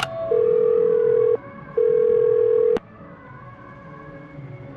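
Steady telephone dial tone sounds while a call is being placed in the Do Not Feed the Monkeys video game, two sustained bursts separated by a short gap, then a click and quiet line hiss.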